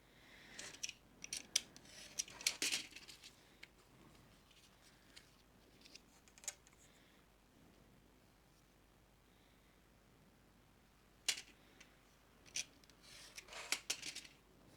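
Scissors cut a paper identification card in quiet, close snips and crisp paper crunches, spread irregularly across the stretch with brief pauses.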